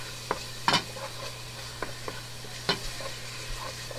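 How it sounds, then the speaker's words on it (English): Shrimp land in a pan of cooked tomato and ginger for pinakbet, giving a steady sizzle with a few sharp clinks and scraping stirs spaced through it, close and alone with no talking. "So our tomato and ginger is cooked. We throw in our shrimp."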